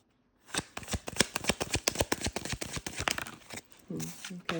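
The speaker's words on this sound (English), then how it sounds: "Just about ready to shuffle." Tarot cards are shuffled by hand in a rapid run of crisp riffling slaps and flutters, close and loud, with a brief bit of talk near the end.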